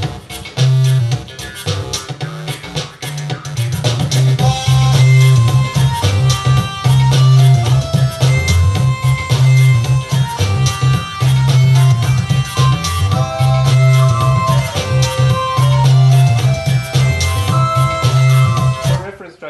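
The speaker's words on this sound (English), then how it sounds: "just medieval, straight up, and I even added some chiptune stuff because I heard indies like it" Upbeat medieval game music mixed with chiptune elements plays loudly and continuously, a steady low drone under busy melodic lines and quick plucked notes, with no talking over it.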